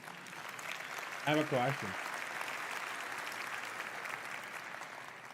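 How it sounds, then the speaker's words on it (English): Audience applause fills a large hall at the Nvidia GTC tech conference, steady clapping throughout with a brief voice speaking over it near the start. "Only at GTC do you get an applause for that."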